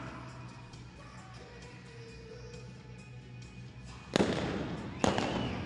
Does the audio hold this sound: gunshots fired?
yes